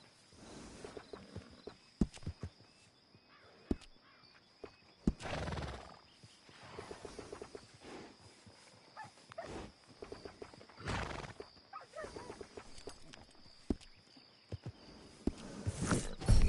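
Horse neighing and whinnying in the Western video game Red Dead, with clip-clop hooves and several loud bursts over a low outdoor ambience, the calls recurring across the scene.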